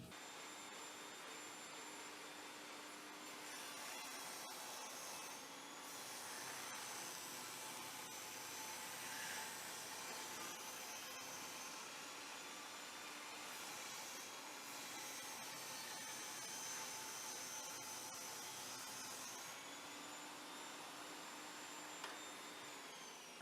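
A table saw fitted with a featherboard runs and cuts wood, a loud, steady high-pitched whine with a droning motor underneath, holding constant for over twenty seconds with slight shifts in pitch as the blade bites.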